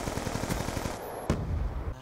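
Rapid automatic gunfire from Black Ops 2, a dense run of close bursts for about a second, then a sharp single crack followed by a few more shots.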